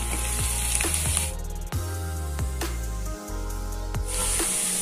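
Chopped ginger fries in hot oil, a loud, close, continuous sizzle with stirring scrapes and brief dips as it settles, no voices over it.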